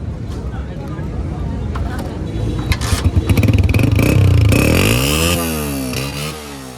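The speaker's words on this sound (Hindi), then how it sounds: "थोड़ा साउंड सुना दे बाइक का।" A Honda motorcycle engine idles loudly up close at a bike market in Karachi, then revs up and down a few times with a rising and falling whine.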